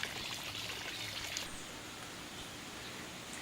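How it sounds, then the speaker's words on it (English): A small garden water feature lets water pour and trickle in a steady, close, continuous splash with no voices. "there's also these little water features around."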